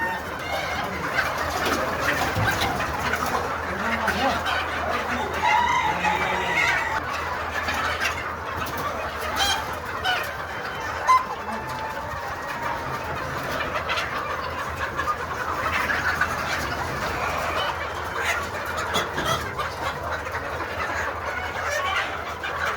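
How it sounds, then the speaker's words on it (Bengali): A large flock of about 1,500 chickens clucks steadily on a poultry farm in Bangladesh, a dense continuous chorus of nearby and distant birds with someone talking over it throughout. "মুরগি আর মুরগি, মুরগি আর মুরগি, অনেক সুন্দর মুরগি।"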